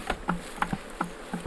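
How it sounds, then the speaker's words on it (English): Bees swarming around an open beehive during a smoke-free comb harvest, with short buzzing bursts of individual insects darting close past, several quick passes in a row against a faint background hum. "Got bees going up my pants."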